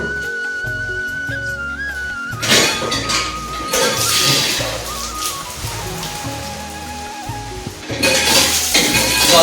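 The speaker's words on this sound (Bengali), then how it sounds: "তো চলো বটিটা এবার ধুয়ে নেব।" A boti, a curved kitchen blade used for cutting chicken, washed under running water: a quiet start with a light tone, then a loud, steady splash and patter of water with metallic clatter and scraping against the blade.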